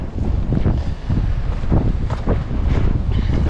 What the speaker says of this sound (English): Wind is bumping a bit, but not that crazy.